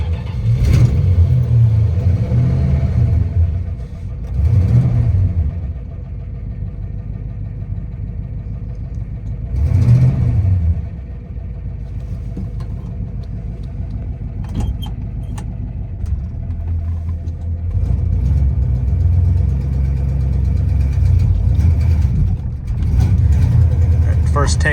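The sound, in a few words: 1965 Plymouth Belvedere II car engine revving as it takes off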